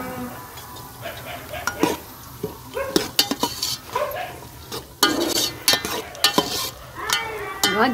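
Raisins frying in ghee in a pan for sheer kurma, with a steady sizzle under frequent sharp clinks and scrapes of a spoon stirring against the metal, up close and fairly loud.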